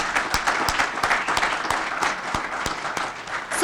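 A room full of people at a college awards celebration claps steadily, a dense, moderately loud patter of applause with individual sharp claps standing out, continuing without speech.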